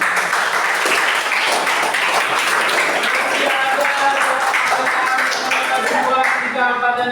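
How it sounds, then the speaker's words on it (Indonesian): Applause from a school class at the end of a civics lesson, a dense steady patter of many hands clapping fairly loudly throughout, with voices and a few tonal cries joining near the end. "tepuk tangan buat kalian semua"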